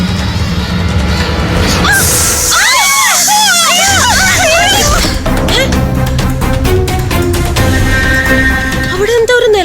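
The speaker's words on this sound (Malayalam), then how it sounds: "അവിടെ എന്താ ഒരു നിലവിളി കേട്ടത്?" People cry out and shout together in a loud, busy crowd scene from a Malayalam TV serial set during the Vishu festival, with overlapping high-pitched shrieks and chatter throughout.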